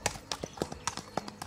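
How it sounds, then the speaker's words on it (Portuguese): A horse walks under a rider, its hooves striking the ground in a steady clip-clop rhythm of crisp, distinct knocks, near and clear with only faint background voices. "aí andando Um cavalo"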